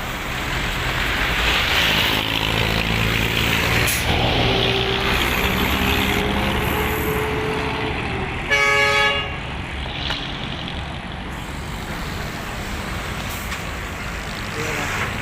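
Large trucks pass along a road in Santo Tomas, Batangas, with a steady loud roar of heavy traffic, a brief sharp air-brake hiss or horn blast midway, and a voice speaking over the noise.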